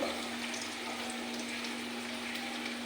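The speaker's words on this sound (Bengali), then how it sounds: "আমার মশলা পুরনের মশলাটা জল দিয়ে কষে নেব" A spice paste cooks with water in a pan for a Bengali doi boal fish curry, giving a steady, even sizzle and bubbling hiss close by, constant throughout with no talking and a faint low hum underneath.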